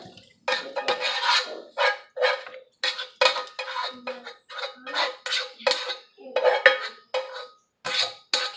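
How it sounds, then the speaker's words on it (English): Shrimp ceviche mix and its juice scraped and spooned into a bowl of chopped veggies: repeated close clinks and wet clatters of a utensil against the bowl, with short drips of liquid between. "we are just going to add the shrimp mix into here with the juice and everything"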